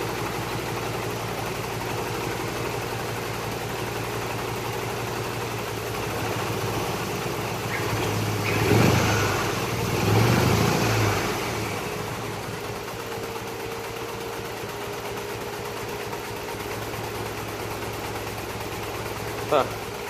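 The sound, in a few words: Mazdaspeed 3 car engine idling and revving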